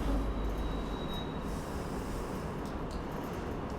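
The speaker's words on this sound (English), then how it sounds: "Didn't you hear the screeching sound?" Train wheels screech on the rails: a steady loud rolling rumble with a faint high squeal near the start, no voices.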